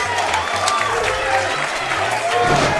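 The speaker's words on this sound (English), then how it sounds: "Big round of applause" A crowd claps and applauds continuously at a live event, a loud, dense patter running throughout beneath a voice and steady tones.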